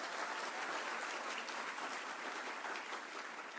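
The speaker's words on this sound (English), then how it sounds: "Let's give them a round of applause." A steady, even round of audience applause for interns at a closing celebration, dense clapping held at a soft, distant level throughout.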